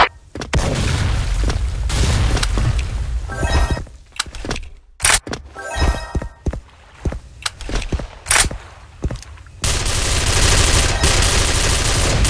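Grenade blasts and rattling automatic gunfire from the online shooter Soldier Front, loud booming bursts broken by short gaps before a sustained roar of fire returns.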